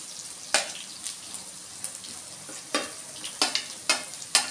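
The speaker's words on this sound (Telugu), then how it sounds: "సొరకాయ వేసుకొని కలుపుకోవాలి." Chopped bottle gourd is stirred into frying onions for a sorakaya curry, with a spoon scraping and clanking against the pan in irregular strokes over a soft, steady sizzle.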